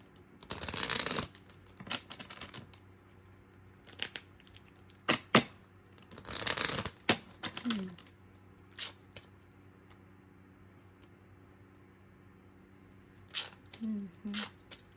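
Bursts of card shuffling: a long riffle near the start, another in the middle, and a few shorter flicks and taps, close by with quiet gaps between.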